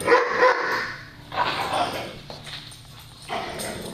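Three daycare dogs, Tonka, Dior and Laika, bark loudly and close by in repeated overlapping bursts that barely pause.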